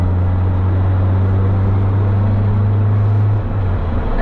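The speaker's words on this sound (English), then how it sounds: "There's third gear." 1970 Lancia Fulvia engine driving in third gear, a loud, steady low drone heard from inside the car with a faint wind hiss, dipping slightly toward the end.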